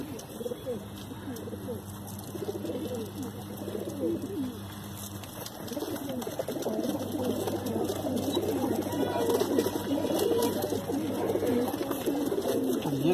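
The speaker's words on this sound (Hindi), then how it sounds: "बहुत शानदार कबूतर है" Soft, repeated cooing of pigeons with scattered chirps, under a steady background hum, continuing throughout.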